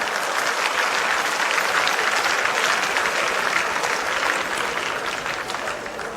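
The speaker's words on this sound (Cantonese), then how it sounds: "你哋仲拍手掌係咪有啲？" An audience applauds at a 1990 Cantonese stand-up comedy show, a dense, sustained wash of clapping that holds steady and eases off slightly near the end.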